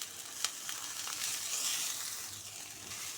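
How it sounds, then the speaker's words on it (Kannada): Chopped onions sizzle and fry in a pan with a little salt and curry leaves, giving a steady, close crackling hiss with a few sharper pops and no talk. "ಈರುಳ್ಳಿ ಒಂದು ಫ್ರೈ ಹಾಕೋಣ."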